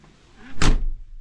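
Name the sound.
door being closed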